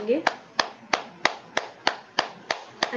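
A group claps hands loudly during a meditation session, with sharp, evenly spaced claps at about three per second, close and distinct against a quiet room.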